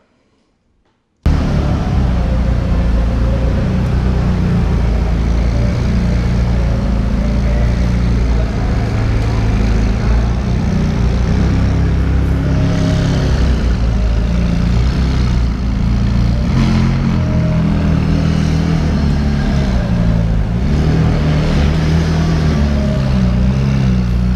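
After a brief silence, a McLaren 570S engine rumbles loudly and continuously with repeated revs rising and falling, close by, with no speech over it.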